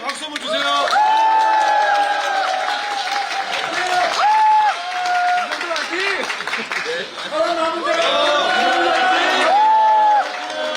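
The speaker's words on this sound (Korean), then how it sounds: "자, 힘차게 박수 한번 주세요." A market crowd at an election rally claps and cheers, with whoops and chuckles mixed in and voices carrying over the steady applause throughout.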